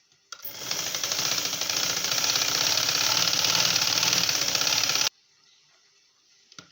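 A sewing machine stitching a blouse, including a reverse stitch, runs in one steady, fast mechanical whir for about five seconds, close by, then stops abruptly.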